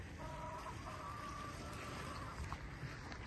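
Hens cluck softly and intermittently against a steady outdoor background hum, fairly faint and somewhat distant.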